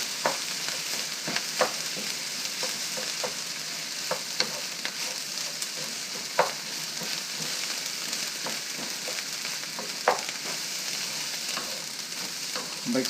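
Rice and Chinese sausage fry in a hot pan with a steady crackling sizzle, punctuated by frequent scraping clicks of a spatula breaking up clumps; no one speaks.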